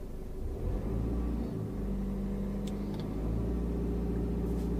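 A car idles steadily during a beginner driving lesson, the accelerator held still in first gear. It makes a constant low rumble and whir close by, with a faint click or two and no speech.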